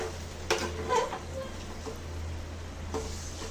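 Garlic chicken dry stirred in a pan over a low flame, with a steady soft sizzle under a few light scraping strokes and clinks of the spoon, close and fairly quiet.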